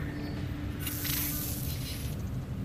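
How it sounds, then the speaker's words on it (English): A repair spray used in the Death Stranding video game, a short pressurized hissing burst of about a second over a quiet low game ambience. "Repair spray."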